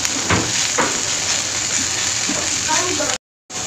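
Steady broad sizzle of beef masala frying in a hot pan, continuous and close, with a few soft stirring scrapes before it cuts to silence near the end.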